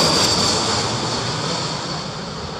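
A passenger airliner comes in to land at Heathrow Airport during Storm Isha, its engine roar loud, steady and close, mixed with wind noise, tapering off slightly over a few seconds.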